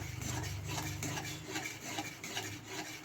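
Yogurt is stirred into a katla fish curry in a pan, giving a steady close scraping and rubbing of a spoon against the pan, continuous over a low background hum.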